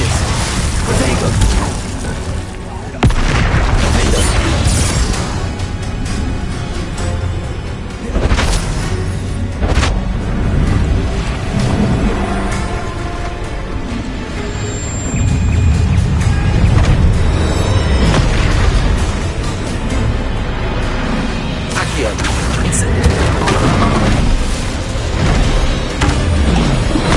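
Spells in Hogwarts Legacy hit and explode in a continuous battle: booms, pops, cracks and crashes pile up over a busy game soundscape, with a voice speaking at times underneath.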